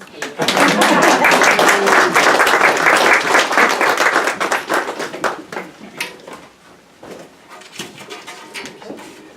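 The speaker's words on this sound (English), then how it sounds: "You can go ahead and applaud." Loud audience applause at a family storytelling event, dense clapping that swells at once, holds for several seconds, then thins out into scattered claps.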